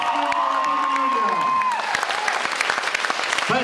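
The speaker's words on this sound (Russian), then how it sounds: "ваши бурные аплодисменты этим прекрасным молодым людям" Loud, sustained audience applause with some cheering for the young contestants at a 2008 local beauty pageant in a hall, as a musical tone fades out in the opening seconds.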